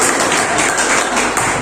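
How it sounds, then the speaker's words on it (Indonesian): A class of students claps together in a steady burst of applause, close and loud, with no talk over it. "Tepuk tangan buat kalian semua"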